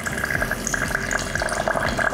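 A countertop reverse osmosis unit dispenses a measured five-ounce pour of hydrogen-infused water into a glass, giving a steady close trickle and splash that runs evenly for about two seconds with no talking.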